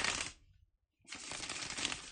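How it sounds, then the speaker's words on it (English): Tarot cards being shuffled by hand in two bursts of dense riffling and sliding, close and fairly quiet, separated by a brief pause. "just let me shuffle the cards."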